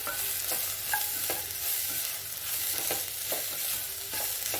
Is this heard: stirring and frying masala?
yes